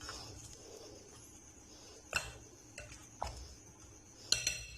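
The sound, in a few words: spices being mixed into mutton with a spoon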